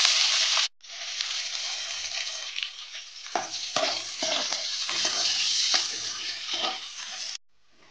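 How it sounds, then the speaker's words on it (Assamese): Sliced onions fry in hot oil with cloves, cinnamon and a large cardamom, giving a steady, close sizzle broken by scraping stirs of a spatula in the pan, with a short pause near the start and an abrupt stop at the end. "পিঁয়াজখিনি অকণমান ৰঙচুৱা হোৱালৈকে ভাজিব লাগিব।"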